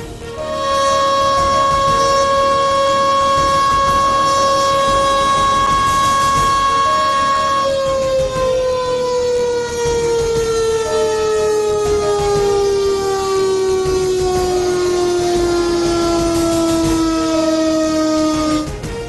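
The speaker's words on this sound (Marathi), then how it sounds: "पख्तूनमध्ये नागरिकांना अलर्ट करण्यासाठी सायरनही बसवले" A civil defense alert siren installed in Pakhtunkhwa wails loud and steady, holding one pitch before slowly sliding downward as it winds down, with no voices over it.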